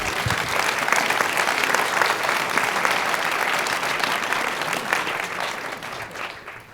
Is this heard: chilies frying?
no